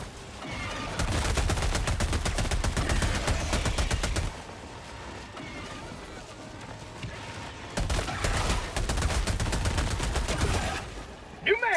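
Long SMG bursts in Helldivers 2 on high difficulty, two sustained streams of rapid automatic fire each lasting about three to four seconds, separated by a quieter gap, loud and close.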